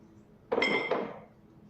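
Glass and a heavy ashtray clink and scrape briefly as they are shifted across a tabletop, one sharp contact followed by a second knock and a fading ring, close and fairly quiet.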